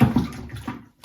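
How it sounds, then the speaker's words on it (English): Water runs over soapy hands as lather from a Yaqi shave soap is rinsed away, a brief close splashing wash that fades out after about a second. "Rinse that soap off my hands"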